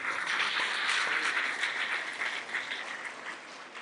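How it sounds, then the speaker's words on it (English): An audience of girls at a junior college claps steadily for about four seconds, a dense, even wash of applause that fades slightly toward the end, with no talk over it. "So very big clap for them"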